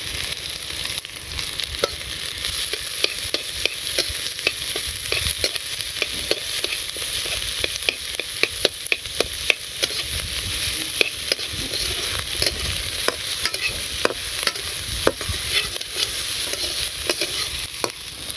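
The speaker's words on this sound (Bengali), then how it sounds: "আলু আর উস্তার মাঝখানে একটু পেঁয়াজটা ভেজে নেই" Onions frying in a pan between batches of potato and bitter gourd, a steady close sizzle broken by frequent sharp scraping and stirring clicks, continuous and loud throughout with no talking.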